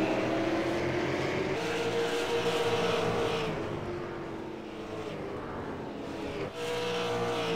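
Race cars roaring around the Las Vegas Bullring oval in a SARA race: loud, sustained engine drone that swells and fades slightly as cars pass along the front stretch, with no voices.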